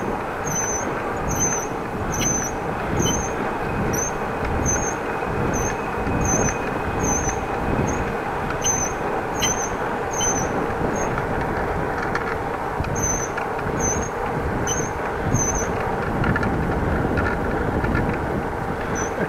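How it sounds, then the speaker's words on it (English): Pedals on a Dutch bicycle squeal as the bike is ridden. Short, high squeaks repeat in a steady rhythm with each pedal stroke over continuous rolling road and wind rumble. "Pedals are not working like it should be doing. Squealing along."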